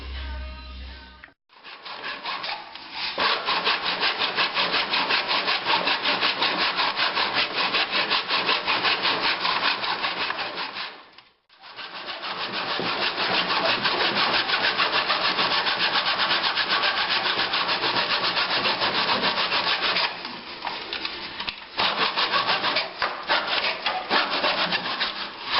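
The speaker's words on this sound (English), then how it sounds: "I'm going to use my little plastic miter box and cut this out." A hand saw cuts a ferro rod blank held in a small plastic miter box, making long runs of rapid, rhythmic rasping strokes, close and steady, broken by two brief pauses.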